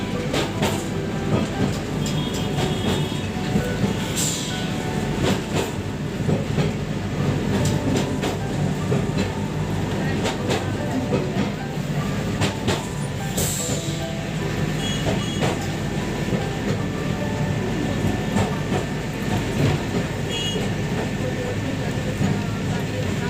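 A Kolkata tram runs along street rails with a continuous rumbling roll, metallic clatter and occasional sharp squeals and clanks, loud and close throughout, with faint voices and street noise mixed in.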